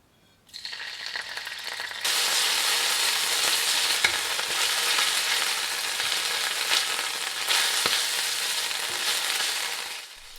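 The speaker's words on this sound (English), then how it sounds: "Begin by adding the anchovy fillets into some hot olive oil." Anchovy fillets hit hot olive oil in a pan: a short quiet moment, then a sudden sizzle that swells into a loud, continuous hiss and crackle lasting to the end.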